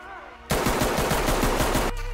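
A loud, rapid burst of automatic gunfire in the tactical shooter game Ready or Not, about a dozen evenly spaced shots fired close in one sustained volley lasting under two seconds.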